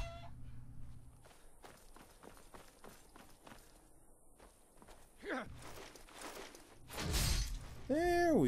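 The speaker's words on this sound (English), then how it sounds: "Chicken." A chicken in the video game Skyrim clucks in short, bright calls near the end, after a stretch of steady in-game footsteps, with a whooshing swing and a louder burst just before the bird's cries.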